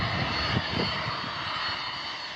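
A Sea Vixen jet aircraft approaching an airfield in Somerset, a loud sustained engine roar that holds steady and slightly fades, heard alone without voices.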